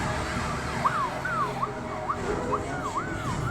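An emergency siren from the animated series Ben 10: Alien Force wails in a rapid rising-and-falling pattern over steady traffic noise, moderately close and continuous throughout.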